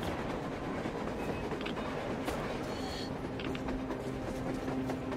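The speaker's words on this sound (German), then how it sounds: "Ein Zug!" A train rumbles past in the post-apocalyptic game Metro Exodus, a steady low clatter of rolling wagons with creaking metal and faint clickety-clack, heard from a moderate distance throughout.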